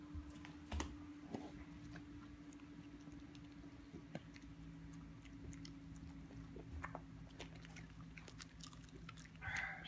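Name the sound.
dog chewing a treat behind a chair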